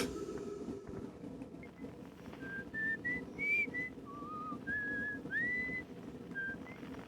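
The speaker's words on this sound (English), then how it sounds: "I don't know how to feel about somebody whistling on a place that's not supposed to have any oxygen" Someone whistles a wandering tune of short and sliding notes at a campfire in the video game Outer Wilds, the whistle moderately near and set over a steady crackling, rumbling background.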